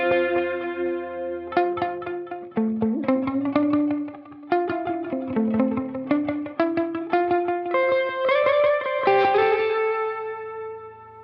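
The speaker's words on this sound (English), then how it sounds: "if you listen to the repeats, you get that very clicky sound as you're playing, because it has a compression circuit that some Echoplexes had" Electric guitar played through a UAFX Starlight Echo Station stereo delay pedal with gain and modulation raised, giving a steady run of plucked notes and chords that trail into echoing repeats with a slightly clicky, compressed edge.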